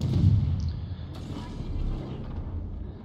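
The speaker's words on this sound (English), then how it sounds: "Let's see if we can get some shots off on this Kuma." Naval gunfire aimed at the destroyer Kuma in World of Warships, heard as a dull, rumbling low boom with a sharp crack near the start, then continuing rolling battle noise.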